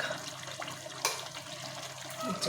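Water splashes and pours steadily into a cooking pot of chicken pasanda, close by, with a brief clatter near the start and no talking.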